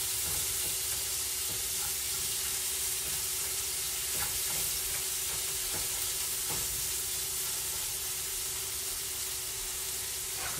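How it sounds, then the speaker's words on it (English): Butter sizzles steadily in a pan while smothered steak sautés, with intermittent utensil scrapes and taps over a constant frying hiss. "I'm gonna add a little bit more butter up in there. So I'm gonna allow it to saute for a minute."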